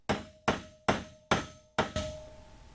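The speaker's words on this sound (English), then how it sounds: "Looks like I can just get a chisel behind this bearing race." Chisel hammered behind a bearing race on a Polaris Ranger hub: five sharp, ringing metal strikes at a steady pace, loud and close, with a lingering metallic ring after each blow.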